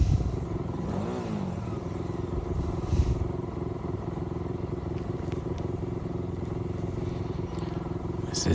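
A motorcycle with a stock exhaust idles and revs at traffic lights, a steady engine rumble with a rev near the start and light mechanical clatter, no talking.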